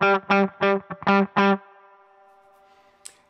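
A single sustained note on the lead channel of a Two Rock Bloomfield Drive amplifier, first picked in several quick distorted stabs, then ringing out and decaying alone, with a faint click near the end.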